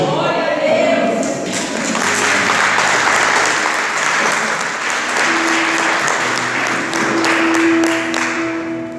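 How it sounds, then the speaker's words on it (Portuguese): Church congregation applauding at an evening worship service, a sustained crowd of clapping with some cheering and a held musical tone underneath, continuing at a steady level throughout. "aplaudindo Jesus bem forte"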